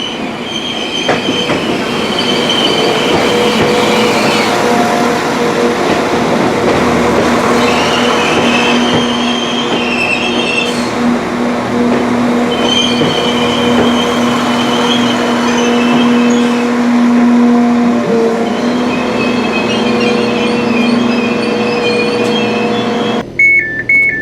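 Northern rail service train running toward Earlestown, steady loud rumble inside the carriage with persistent high-pitched wheel squeal and tonal whines rising and fading throughout, close and continuous with no talking.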